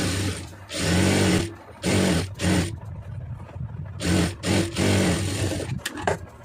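A sewing machine stitches blouse lining in short repeated bursts, loud and close, each run of whirring motor and needle stopping and restarting several times with brief pauses between.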